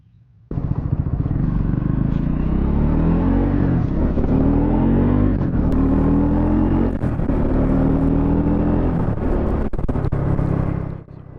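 A Triumph 400X Scrambler motorcycle starts off and rides with a loud, close engine drone, rising and falling through the gears with steady rumble until easing off at the end.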